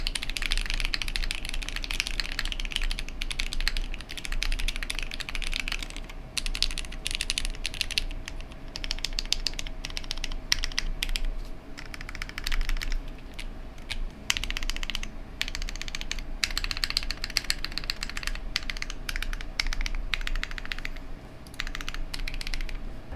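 Typing on a $149 plateless hot-swap mechanical keyboard with a numpad, a dense, steady run of close, crisp keystroke clacks, alone with no talking.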